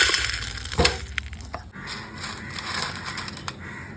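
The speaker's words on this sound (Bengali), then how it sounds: "ধনে আর জিরে, শুকনো লঙ্কা, গোলমরিচ। কি সুন্দর একটা সেন্ট বেরোচ্ছে, আর এই ফুটফাট করে শব্দও করছে" Coriander seeds, cumin, dried chilies and black peppercorns dry-roasting in a pan, a dense close crackle and rustle with a loud stirring scrape near the start and scattered small pops throughout.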